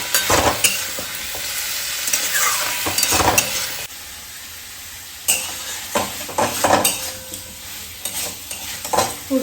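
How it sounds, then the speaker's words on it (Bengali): Spices sizzle and fry in a pan while a spoon stirs and scrapes against the metal. The busy frying clatter pauses briefly midway, then resumes, close up with no voices. "একটু কষিয়ে নেব"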